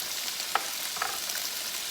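Bitter melon stir-fried with black bean garlic sauce in a hot pan, a bright continuous sizzle with two quick spatula scrapes close by, no voices.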